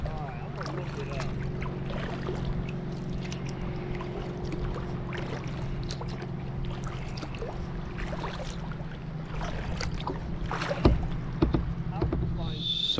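Kayak on a lake with a steady low hum and wind noise running throughout, and soft knocks and splashes now and then that grow louder near the end.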